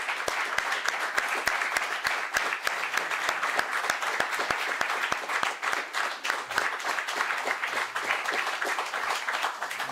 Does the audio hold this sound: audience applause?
yes